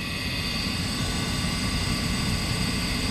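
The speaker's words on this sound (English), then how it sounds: "Combustion blower doesn't sound too good." A gas furnace's combustion blower runs rough on a no-heat service call, giving a steady, loud, close droning roar with a low rumbling churn that holds throughout, with no talk.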